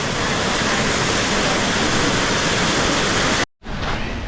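Loud, constant roar of the nine-tier waterfall at Suan Phueng, Ratchaburi, a dense rushing wash of falling water heard up close, cut briefly by a short gap before resuming.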